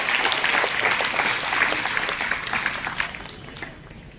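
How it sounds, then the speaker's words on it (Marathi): Students give loud, sustained applause at the inauguration of a competitive-exam guidance centre. Dense clapping from a crowd fills the hall and then tapers off toward the end. "सर्व विद्यार्थ्यांनी जोरदार टाळ्या वाजवायच्या"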